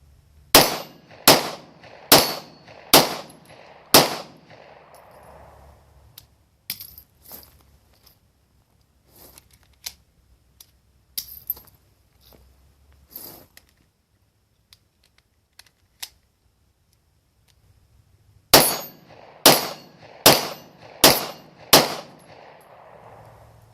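Glock 19 pistol fitted with a Saf-T-Lok firing brass-cased rounds: a rapid string of five loud sharp shots, a scattered middle stretch of lighter clanks and handling noises, then another quick burst of five shots at close range.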